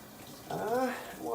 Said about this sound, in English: so just turn the tap on with the palm there.